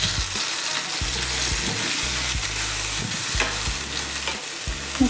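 Grated mango frying in a pan, with a steady close sizzle throughout and repeated scraping stirs of a spatula in short rhythmic strokes.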